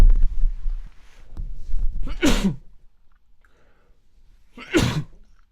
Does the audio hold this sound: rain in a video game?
no